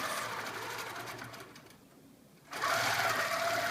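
A long arm sewing machine attaching binding to a quilt, a loud, continuous buzzing whir that drops away briefly and then starts again at full volume.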